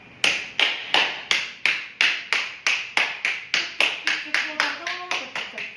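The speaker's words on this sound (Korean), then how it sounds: "이런 박수 소리가 나야 되는데" Two hands clap in a steady, evenly spaced rhythm during golf swing practice, about fourteen sharp, close claps, with a voice briefly audible near the end.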